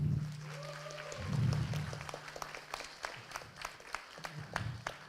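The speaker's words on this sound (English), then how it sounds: "So give them a big round of applause." Audience applause at the CityJS Singapore 2024 conference, a soft patter of scattered claps rising briefly, heard faintly under a voice speaking at the start.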